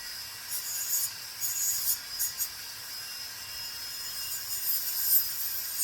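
Heavy-grit sandpaper scuffs a metal pendant bezel in a steady, soft rasping rub, with short bursts of quicker strokes, close up and fairly quiet, no talking.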